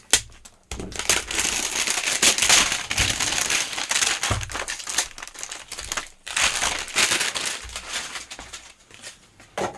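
Cheap plastic packaging from an AliExpress parcel is crinkled and crushed up close for about ten seconds, loud and uneven with brief pauses. No voices are heard.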